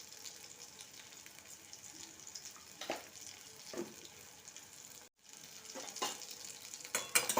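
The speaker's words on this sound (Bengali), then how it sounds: "খুব ভালোভাবে নেড়ে নেবো, একেবারে শুকনো করে নেব।" Bottle gourd curry paste being stirred in a pan until dry, a soft low sizzle with a few separate scraping strokes and a brief silent break, faint and close, with no talk.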